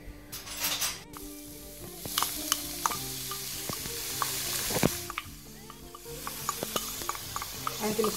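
Oil frying in a pan for a meat and vegetable sandwich, with stirring and scattered utensil clinks over a steady sizzle, close and moderately quiet, without voices.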